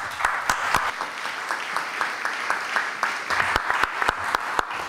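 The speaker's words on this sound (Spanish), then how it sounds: "El aplauso para él." At a book presentation, a modest audience applauds a speaker, the clapping fairly close and uneven, with several sharp individual claps standing out over the steady patter.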